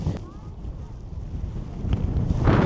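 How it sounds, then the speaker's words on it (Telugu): Wind blowing outdoors near a temple, buffeting the microphone with a low rumbling rush that builds louder toward the end. "ఈ గాలి బాగా పెడుతుంది కాబట్టి చల్లనిపిస్తుంది"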